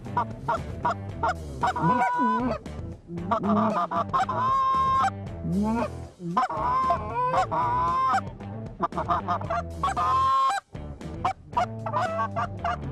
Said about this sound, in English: Geese coming on the right.